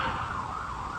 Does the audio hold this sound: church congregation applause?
no